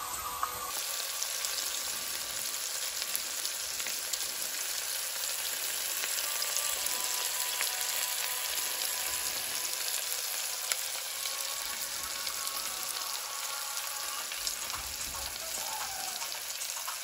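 White fish fillets fry in a pan over medium-high heat, giving a steady, even crackling sizzle that holds unbroken from start to finish with no voices.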